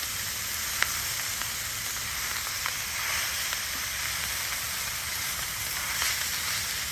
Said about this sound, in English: We can go ahead and start stirring everything together.